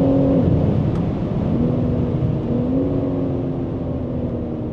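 BMW M3 Competition driving at high speed, around 250 km/h, on a German autobahn: a steady, loud engine drone and road rumble with gently shifting engine tones, continuous throughout with no talking.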